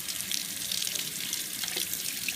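Water running steadily over a Columbia Peakfreak OutDry waterproof shoe during a water test, a continuous close hiss and splash like a tap flowing, with no talking.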